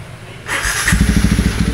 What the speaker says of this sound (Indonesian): Kita panasin WR, guys.